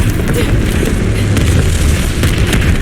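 Bomb explosions boom through the Stalingrad mission of the video game Call of Duty Vanguard, a loud, continuous low rumble of blasts that rolls on without pause.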